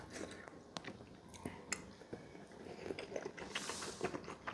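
Someone chews a mouthful of shrimp from a seafood paella in Spain, soft close biting and squishy mastication with small clicks, quiet and without talk.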